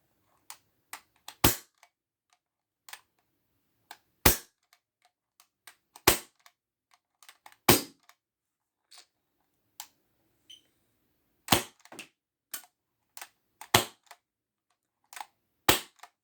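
Cheap CO2 airsoft pistol firing single shots through a chronograph indoors, sharp loud cracks spaced a few seconds apart with small clicks between them and near silence otherwise, with no talk.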